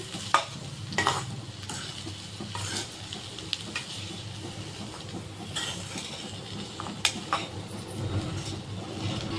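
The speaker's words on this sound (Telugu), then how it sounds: "ఒకసారి మనం ఫ్రైని మిక్స్ చేసుకుందాం." A spine gourd fry is stirred in a hot pan, with a soft continuous sizzle beneath repeated scraping strokes of a spatula arriving in irregular bursts, close and moderately loud, with no talk.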